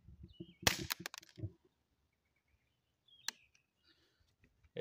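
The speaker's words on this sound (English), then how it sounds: "This JK Armament on a rifle with subsonic sounds really good." A suppressed rifle fires subsonic ammunition through a JK Armament suppressor, giving a sharp close report with a quick burst of mechanical clatter and a second shorter crack a couple of seconds later, then near silence.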